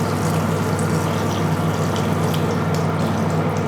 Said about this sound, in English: Now I'm also going to pour in the stock.